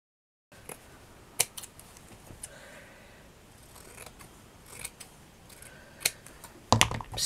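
Scissors trimming the edge of a fabric page for a small stitched fabric book, a few sharp, separate snips over a quiet background, with a cluster of louder clicks at the end.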